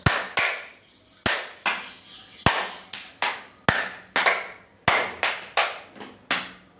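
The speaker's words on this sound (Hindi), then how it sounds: "आप कम से कम 5 बार जोर से ताली बजाओ।" Loud, sharp hand claps during a yoga and pranayama session, roughly fifteen crisp smacks in uneven bursts of two or three, each ringing briefly in a quiet room.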